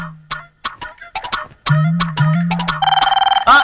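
A mobile phone rings with a synthetic melodic ringtone, a run of short bright tones and sustained notes ending in a rapid fluttering trill, loud and close with no talking.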